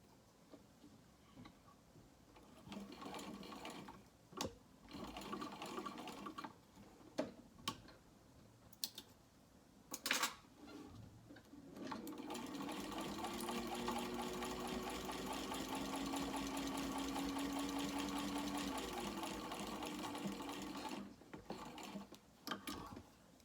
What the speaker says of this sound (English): I'm going to sew around the rest of the sides